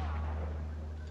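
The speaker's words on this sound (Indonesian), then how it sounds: "Pakai basokan juga dia." A bazooka blast in the Call of Duty shooter game, heard as a short, low, rumbling boom fading out at a moderate distance.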